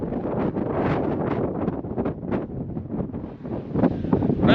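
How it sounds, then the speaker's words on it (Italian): Strong wind roars and buffets steadily across the microphone at a mountain lookout in Morocco, with gusty rumbling that swells and dips throughout. "Speriamo si senta l'audio perché c'è tantissimo vento."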